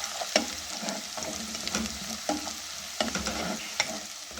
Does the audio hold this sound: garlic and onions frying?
yes